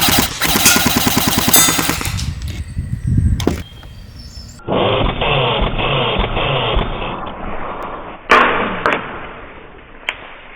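An all-metal Barra 400E Gen 2 electric .177 BB machine gun fires full-auto in close, rapid bursts, a long stream followed by a pause and then a longer sustained burst with sharp clacks and impacts, no voices.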